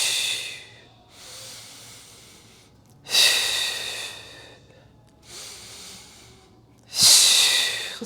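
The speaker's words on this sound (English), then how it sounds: "Deep breath in, 2, 3, 4, 5, and exhale." Deep, slow breathing in and out during an at-home Pilates core class, with long airy inhales and hissing exhales repeating several times, close and clear, with no talking.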